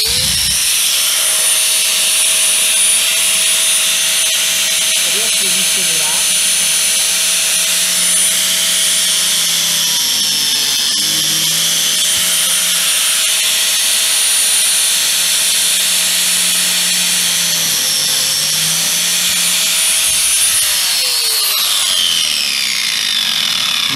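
A woodworking biscuit joiner runs loudly and continuously with a high motor whine, its pitch dipping twice as the blade plunges in to cut slots for wooden biscuits.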